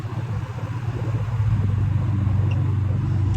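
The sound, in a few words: Air King vintage box fan running on low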